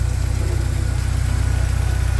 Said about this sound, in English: I've given the engine a nice clean and I've gotten it started.